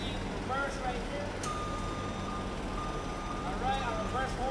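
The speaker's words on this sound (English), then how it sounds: "our reverse horn works" Forklift reverse alarm beeping in steady repeated tones over a loud, constant engine and yard rumble, fairly close, with people talking nearby.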